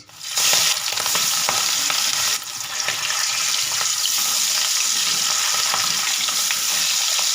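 Hilsa fish frying lightly in oil in a pan for sorshe ilish, a loud, steady, close hiss of sizzling oil with faint stirring taps and a brief dip in level early on.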